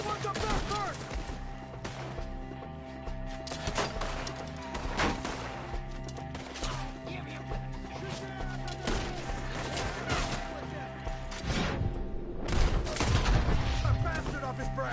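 Sustained gunfire rattles through a Red Dead Redemption 2 firefight, dense volleys of shots and cracks continuing throughout, with voices shouting over the battle.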